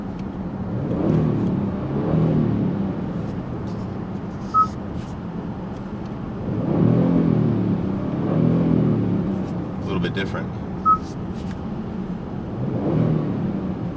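A 2020 Kia Stinger GT2 engine revs in neutral in normal drive mode, rising and falling in three or four smooth swells under someone talking close by.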